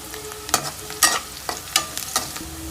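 Green chilies frying in a hot pan while being stirred, with several sharp bursts of sizzling and spatula scrapes at irregular intervals, fairly close and moderately loud, no voices.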